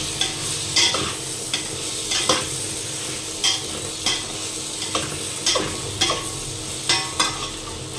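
Vegetables, tomatoes and spices roasting in a pan give a continuous sizzle, while a spoon stirs them in regular scraping strokes about once a second, close and clear.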